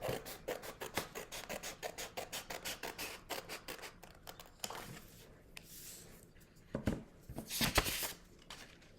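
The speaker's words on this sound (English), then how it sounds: "I'm going to very carefully use my scissors to cut that piece out" Scissors snipping through folded paper while cutting out a paper snowflake, a quick run of close, crisp cuts followed by slower rustling and a few louder snips near the end.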